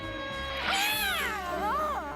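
A cartoon cat lets out a drawn-out, wavering meow that rises and bends in pitch, loud and up front over a faint background.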